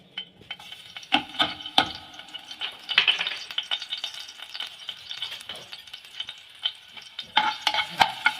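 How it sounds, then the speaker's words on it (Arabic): Garlic fries in a couple of spoonfuls of oil while a spoon stirs it, giving a soft continuous sizzle broken by repeated scraping clicks against the pan, close and fairly quiet with no talking. "نبدا يا جماعه نقلب الثوم كده لحد ما يحمر معانا."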